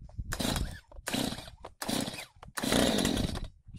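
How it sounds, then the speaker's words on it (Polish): A Stihl MS 181 chainsaw engine sputters and catches in several bursts, each a rough two-stroke roar cutting off briefly before firing again, loud and close. "Dzisiaj odpalimy piłę."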